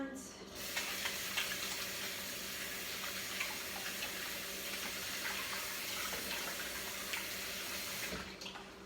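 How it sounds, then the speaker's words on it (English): Hands are washed under a running kitchen tap in a home kitchen, a steady splashing hiss that goes on throughout and cuts off near the end, faint and close with no clear voices. "I'm gonna wash my hands because I have my hands all full"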